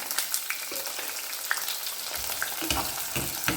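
Small onions sautéing in a pan, a continuous crackling sizzle with occasional scraping stirs and a few low thumps toward the end, close and steady, without talk.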